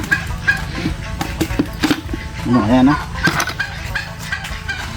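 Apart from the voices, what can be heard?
pet ducks, turkeys and chickens at feeding time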